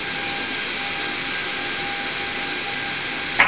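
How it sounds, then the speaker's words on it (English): A Boeing 737-800 jet engine starting in X-Plane 12 gives a steady loud whine and roar with a faint tonal hum throughout, ending in a brief sharp click. "Now to start the engines, you have to do just one thing."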